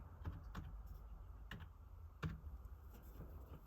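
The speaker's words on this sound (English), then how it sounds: "Type it in, Vilma." Typing on a computer keyboard indoors: faint, scattered key clicks at an irregular pace over a low steady hum, with no talk.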